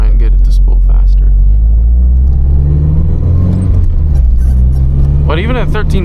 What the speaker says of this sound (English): when I start increasing boost, I think it's going to spool faster